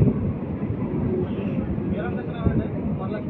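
Simhadri Express leaving Samalkot Junction, heard from inside the coach: a continuous low rolling rumble of the moving train, with talk faintly mixed in.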